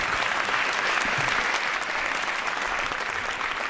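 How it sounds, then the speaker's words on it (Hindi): Enthusiastic audience applause at a Hindi poetry gathering (kavi sammelan), a dense, even wash of clapping from a large crowd that holds steady and loud throughout. "एक बार इनके लिए अभूतपूर्व तालियां बजाइए।"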